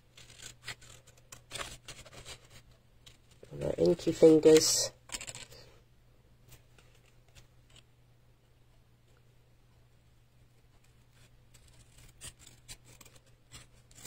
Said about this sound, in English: I'm just going to cut this out quickly with a pair of scissors